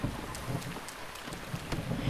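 Thunderstorm in the video game Breath of the Wild: steady, dense rain with low rumbling thunder swelling and fading over a couple of seconds, no voices.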